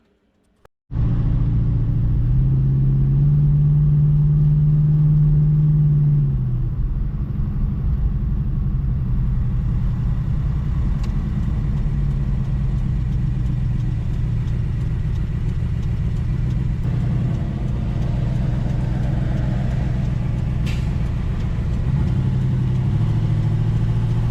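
A classic Dodge Charger engine with a Thermoquad carburetor starts with a quick crank and settles into a loud, steady rumbling idle, with a brief higher hum early on.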